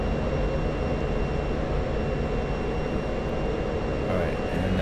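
An F-16 jet engine roaring in DCS flight simulation, a steady loud broadband rumble with a faint whine held constant throughout, no talk.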